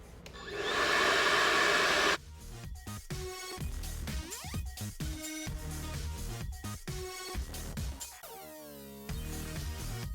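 A hair dryer fitted with a diffuser drying the roots of curly hair, a loud continuous whirring blow that keeps shifting in tone as it moves around the head, with a cut partway through.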